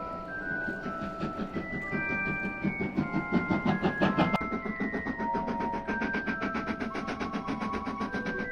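The Hogwarts Express steam train goes by with a rhythmic, pulsing chuff and clatter that builds to a peak, with sustained whistle-like tones drifting over it and no voices.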